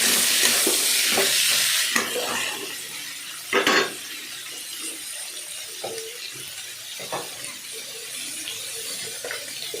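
Cauliflower stems being stir-fried in a pan for a chachchari, a bright sizzle that fades somewhat after a couple of seconds, punctuated by scraping and clattering stirring strokes, close up with no voices.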